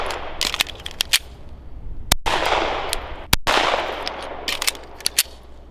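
Sharp pistol shots at a shooting range, two loud cracks in quick succession with another near the end, set against a steady background of other shooting and wind.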